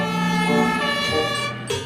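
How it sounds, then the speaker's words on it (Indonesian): A toy fire truck siren plays a loud, steady electronic wail with a bright, buzzy tone, close by, changing pitch briefly near the end. "Wow, lihat ada mobil pemadam kebakaran."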